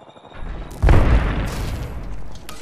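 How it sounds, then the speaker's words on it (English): A grenade detonates in Apex Legends gameplay, a sudden heavy boom with deep low rumble that bursts loud and then trails off into a sustained rolling roar over the next two seconds. "Grenade."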